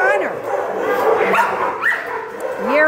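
Several dogs bark, yip and whimper in an animal shelter kennel, the overlapping calls loud and close and continuing throughout, with a person talking underneath the din.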